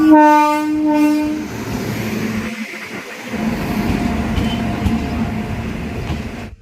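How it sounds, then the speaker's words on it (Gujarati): A train horn sounds loudly for about a second, then the rumble and clatter of a train rolling in fills the rest, steady and near. "આ ગાડી આવી ગઈ આમાં ચડી જવાનું."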